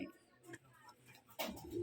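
Rajshahi Giribaz pigeons cooing in a loft, a soft, low, steady cooing that comes and goes in short bursts, with a few other loft noises around it.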